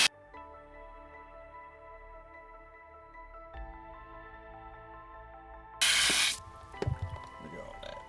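A pressure-washer water spray rinsing a dirty car wheel and tire, a loud broadband hiss that bursts in suddenly near the end, then sputters and splashes after a long stretch of quieter tonal background hum.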